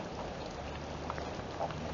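Steady rain in the Philippines patters continuously, a soft broadband hiss with scattered drops, fairly faint and without voices.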